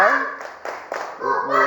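A short burst of hand claps mixed with children's voices chanting an Indonesian butterfly clap rhyme, close by, with a few quick rhythmic claps between the voices.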